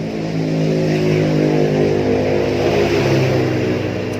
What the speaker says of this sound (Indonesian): Maaf, ada suara motor.